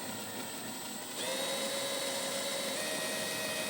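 A 1-1/8 inch hole saw on a drill bores through the bed of a 2019 Ford F-series truck, giving a steady, fairly quiet whine that rises in pitch after the first second and holds to the end.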